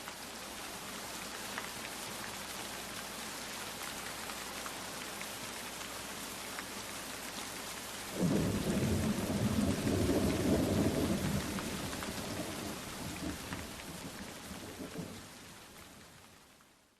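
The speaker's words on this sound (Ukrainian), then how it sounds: "Так, це була мелодія дощу." Recorded rain with thunder: steady rainfall hisses throughout, and a loud rumbling thunder roll swells in midway, lasting several seconds before fading back under the rain.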